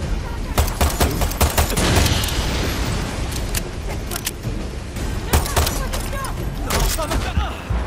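Dense, continuous gunfire and booming grenade launcher shots fill a Far Cry 6 battle, with rapid overlapping reports and blasts throughout.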